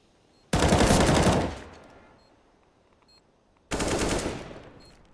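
Rifle gunfire from a Counter-Strike match on the map Train, with two loud bursts of rapid automatic shots, one long spray and then a shorter one after a pause, heard alone and up close.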